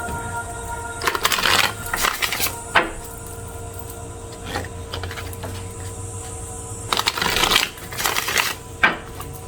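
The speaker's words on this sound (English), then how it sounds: "Better give them a good shuffle." Tarot cards shuffle in quick riffling bursts close by, several separate flurries with quiet pauses between them over a faint background hum.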